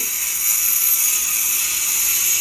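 A floor cutting saw slices into an indoor floor to open a trench for a sewer drain pipe while a vacuum cleaner runs alongside, giving a loud, steady, hissing whir that fills the whole stretch.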